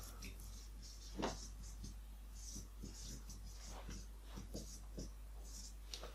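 Writing on a board during an English lesson on family members, with soft scratching strokes in short bursts and a teacher speaking at times over low room hum.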